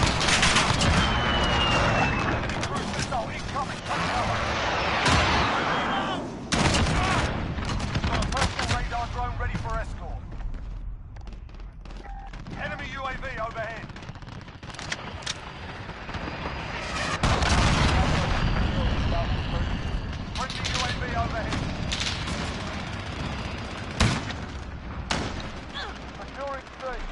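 Cruise missile airstrike explosions and gunfire in a Modern Warfare beta match, heavy booming blasts and rattling shots throughout, loud and chaotic, with voices speaking over the battle.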